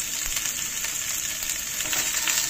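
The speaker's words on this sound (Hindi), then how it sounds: "अब हम ना सारी सब्जियां साथ में डाल देंगे और इनको हाई फ्लेम पर कुक करेंगे" Mixed vegetables stir-frying on high flame, a dense continuous hiss of sizzling oil, close and loud, without voices or breaks.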